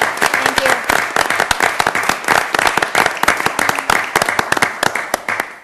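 Applause fills a Sioux Falls city council meeting chamber, a steady rhythm of many hands clapping close and loud, holding strong before easing off at the end.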